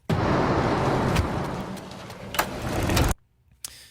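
A car engine roars steadily in a film soundtrack, loud and continuous for about three seconds, then cuts off abruptly into near silence with a brief faint burst afterward.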